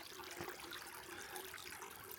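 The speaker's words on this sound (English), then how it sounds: "where it's actually spring water coming out of the side of the hill, right into the stream." Spring water flowing out of a hillside into a stream, a soft, faint, continuous trickle and gurgle heard close by with no voices.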